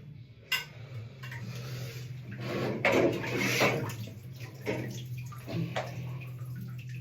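Wet trombone parts, fresh from a bathtub wash, are given small shakes to fling off water, producing scattered splashes, drips and light metallic clinks close by in a quiet room with a low steady hum underneath.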